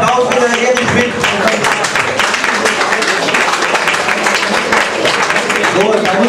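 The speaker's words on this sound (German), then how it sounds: "ein riesen Applaus für den Erich" A hall crowd at a German Büttenrede carnival club evening in 2008 gives a loud, dense round of applause for Erich, steady sustained clapping mixed with cheering and crowd voices throughout.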